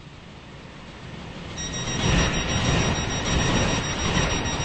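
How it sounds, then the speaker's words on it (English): A train running in the Roblox game SCR on a Stepford Connect service, a steady broad rumble that grows louder about halfway through, with a thin high whine on top and no voices. "This train is for Port Benton."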